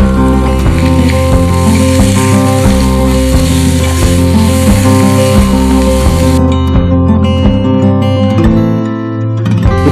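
Diced chicken cubes stir fried in a hot pan give a loud, continuous sizzle under prominent background music.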